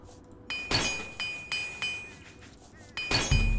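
Repair hammer in a video game strikes metal several times in an uneven rhythm, each blow a bright ringing clink that decays quickly, with quiet gaps between hits.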